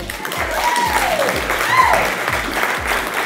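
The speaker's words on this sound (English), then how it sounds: "Do you give Patty a big round of applause?" A pageant audience applauds as Miss Heritage New Zealand 2014 is welcomed on stage, a dense, continuous clapping that stays loud throughout while music plays underneath.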